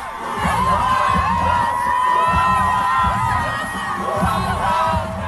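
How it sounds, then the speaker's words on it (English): A large crowd in Paris cheers and celebrates news, a dense, loud roar of many voices with whoops and shouts rising and falling in waves. "So this was the crowd celebrating the news in France."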